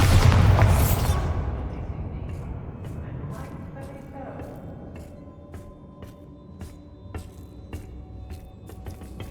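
A Bombarda spell detonates in Hogwarts Legacy with a loud, broad booming blast that fades over a second or two, followed by quieter rumbling and scattered faint clicks and crackles.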